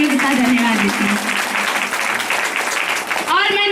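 A church congregation at a Sunday prayer service claps together, loud and dense, with a voice speaking over the start and end of the applause.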